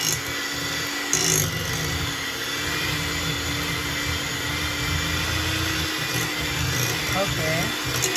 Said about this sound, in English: I use my mixer to mix just soft this egg butter.